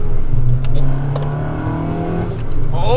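A Honda Civic EK hatchback with a B16A engine, a near-stock Kanjo-style car, is driven hard. The engine drones and revs from inside the cabin, with its pitch rising as it accelerates.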